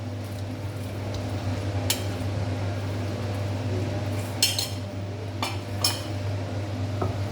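Chicken being stirred into a thickened pineapple sauce in a pan, with a few sharp clinks of a utensil against the pan over a steady low kitchen hum.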